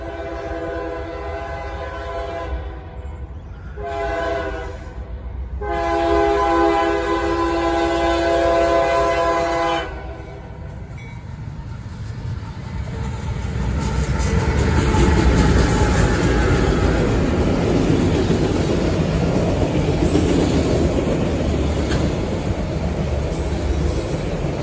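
A southbound CSX freight train passes close by, sounding a loud horn in several long blasts during the first ten seconds, then the broad roar and rumble of the rail cars rolling past continues steadily.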